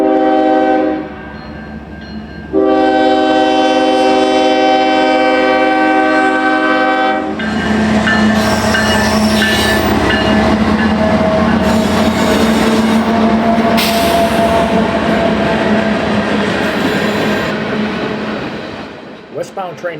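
A CSX manifest freight train from the former Pere Marquette line in Michigan swings off the NS onto the CSX at Pine Junction, sounding several long, loud horn blasts before its heavy rumble and clattering cars roll steadily past close by.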